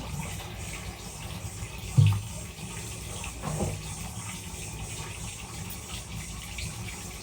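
Water pouring into a kodapana pot, a continuous close gushing fill with a couple of brief knocks partway through.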